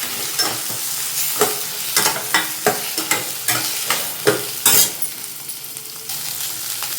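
Cumin seeds sizzling in hot oil in a pan, with a run of sharp rhythmic scrapes and taps from a spoon stirring over a continuous close crackle, no voices.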